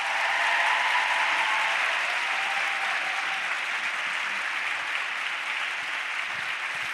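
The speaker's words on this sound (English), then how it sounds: "One big round of applause for her." Steady audience applause at the close of an evening event with author Kendra Adachi, a dense wash of many hands clapping that holds evenly for about seven seconds before easing slightly.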